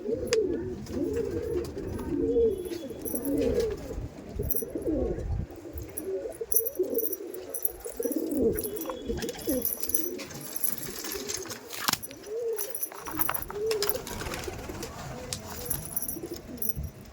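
Andhra pigeons coo repeatedly in a loft, layered low throaty calls overlapping in rolling phrases, close and steady, with faint background chirping of insects and no clear talk.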